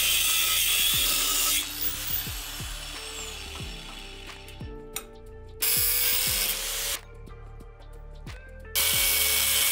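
An angle grinder cuts metal in three harsh, high-pitched screeching spells, and its motor whines down in the pauses between them.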